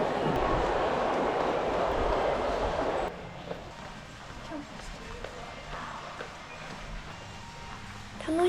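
A subway ride from Nagoya toward Toyota city, with a steady rumbling roar of the moving train that drops abruptly to a quieter hum partway through, close and continuous.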